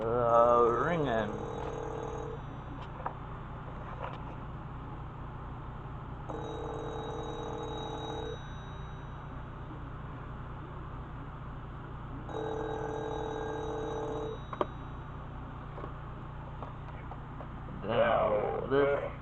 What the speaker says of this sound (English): Here it is ringing.